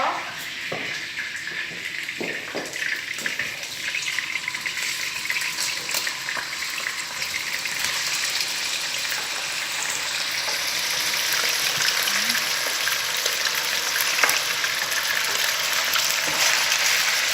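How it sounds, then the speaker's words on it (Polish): Diced meat sizzles and fries in hot oil in a pan, a continuous crackling hiss that grows slightly louder, with faint talk in the background. "I wrzucamy na gorący olej. Wrzucamy olej, wrzucamy nasze mięsko."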